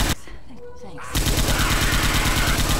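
Rapid automatic gunfire in the zombie shooter Left 4 Dead 2 bursts in loudly after a brief quieter stretch and keeps hammering without pause, with shouting voices mixed into the chaos.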